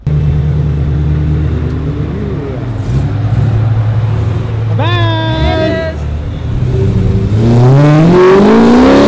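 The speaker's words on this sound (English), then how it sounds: "Wow, this car is so loud." A wide-body BMW M3 idles loudly up close, then its engine revs hard with rising and falling surges near the end, while voices talk briefly over the rumble.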